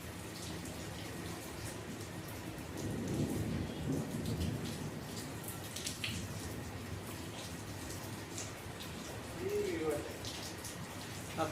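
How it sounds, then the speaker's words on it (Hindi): Heavy rain pours outdoors in a steady, fairly soft hiss of drops on surfaces, swelling slightly at moments, with low rumbling that may be distant thunder and no clear speech. "आज बहुत तेज़ बारिश हो रही है"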